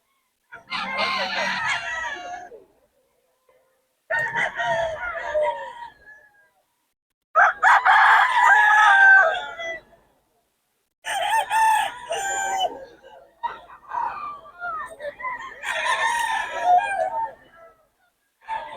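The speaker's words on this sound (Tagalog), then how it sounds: "Mga manok ni Boss Ray" Several roosters crow in repeated bursts with short pauses between, loud and close, the calls overlapping at times.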